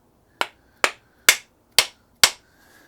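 Hammer striking to drive a wooden handle into an axe head, five sharp evenly spaced blows, loud and close, each ringing briefly before the next.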